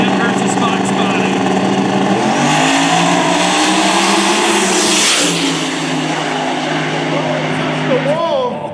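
Drag race between a 1991 Mazda Miata and a Fox Body Mustang at Lake Cumberland Dragway, loud engines roaring and revving up through the gears as the cars pass close by, with an announcer talking over the noise.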